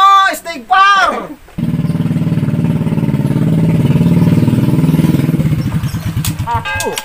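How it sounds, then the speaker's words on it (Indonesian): Old motorcycle engine, heard after a voice speaks, sputtering into a rough, pulsing chug that runs several seconds, then falters into uneven bursts as it stalls, with a voice returning at the end. "Kan mogok ieu motor."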